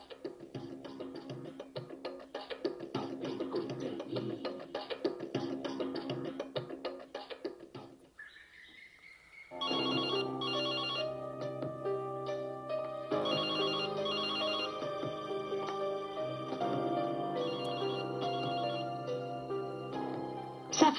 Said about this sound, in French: Ça fait déjà un moment que le téléphone sonne.